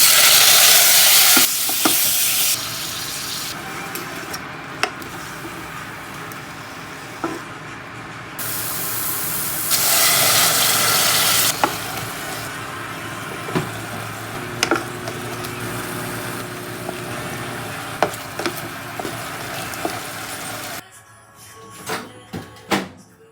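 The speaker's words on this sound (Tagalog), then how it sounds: "Lagay ko na po ang butter and garlic, whatever." Butter and garlic sizzle and fry steadily in a pan, a continuous loud hiss broken by stirring scrapes and small clinks, dropping away near the end.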